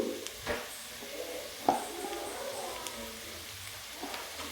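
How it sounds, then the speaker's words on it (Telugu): Carrots fry in a pan with a pinch of turmeric while a spoon stirs them, soft scraping taps over a faint, quiet sizzle. "వేసిన తర్వాత బాగా కలుపుకోవాలి"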